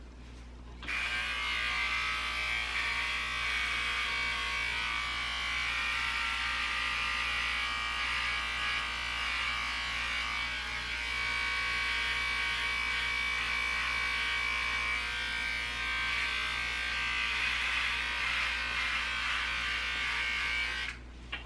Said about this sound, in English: I'm gonna shave everything but the mustache